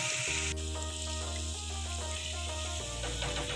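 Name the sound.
potato fritters (pakoras) frying on low-medium flame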